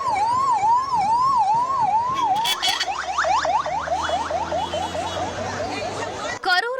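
An ambulance siren wails outside a hospital after a political rally stampede, starting as a slow rising-falling tone and then switching to a faster yelp. It is loud and close, with a crowd murmuring beneath it.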